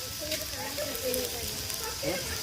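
Garlic and green chillies sizzle in a pan, a steady broadband hiss of frying that runs through the whole moment, with faint voice-like murmurs underneath.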